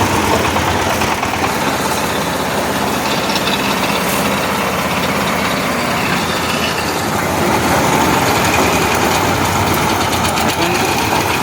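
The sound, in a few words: power tiller engine running corn thresher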